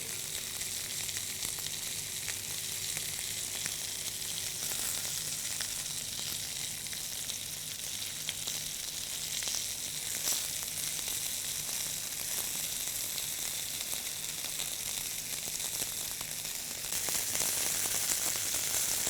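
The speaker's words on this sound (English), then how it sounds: "I've got a good noise in the pan" Pork cheek meat sizzles steadily in a hot frying pan as it browns, a constant crackling hiss throughout with no talking.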